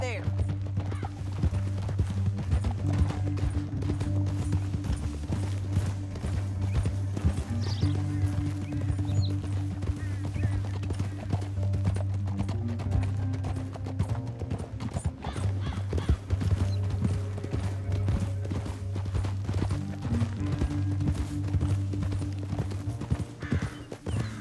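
Horse hooves clip-clopping at a steady run in Red Dead Redemption 2, a Western open-world video game, a continuous rhythmic patter with occasional whinnies over a droning music bed, with voices talking intermittently.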